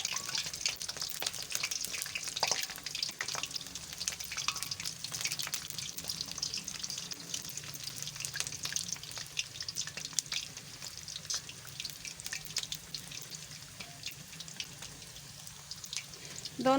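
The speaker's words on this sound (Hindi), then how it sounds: "एक साइड से ये अच्छी तरह फ्राई हो चुके हैं। अब इसकी हम साइड चेंज करेंगे।" Dahi bara lentil fritters frying steadily in hot oil for a stretch, a constant close crackle with occasional soft clicks as the fritters are turned over.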